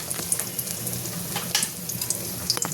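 An egg fries in a pan, with a steady, close sizzle and a few light crackles and pops.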